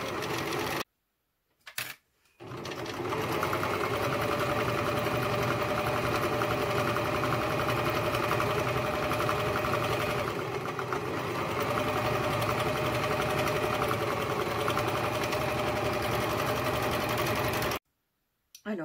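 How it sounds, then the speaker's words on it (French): An overlocker (serger) stitches the side seams of a T-shirt with a loud, steady mechanical whir that runs almost without a break, stopping briefly near the start and again at the very end. "je vais coudre de chaque côté à la surjeteuse"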